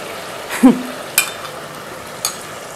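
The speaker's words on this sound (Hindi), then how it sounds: "इसको हम मिक्स करके पकने के लिए रख देते हैं" Frying liver and yogurt gets stirred in a pan: three short spoon scrapes cut through a soft, steady sizzle.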